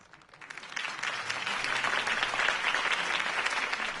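Crowd applause rises after Harvey Dent's campaign speech in the Batman Telltale video game, a dense, steady clatter of many clapping hands that swells in the first second and holds at full volume.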